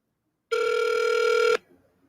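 A telephone rings for an incoming caller on a call-in talk show: one loud, steady electronic ring lasting about a second, heard alone before fading to quiet room noise.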